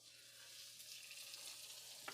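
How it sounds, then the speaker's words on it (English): A thick blackened halibut fillet is laid into a hot pan and hisses with a steady, close frying sizzle, with a brief clatter near the end; no one speaks. "should hear that beautiful sizzle just like that"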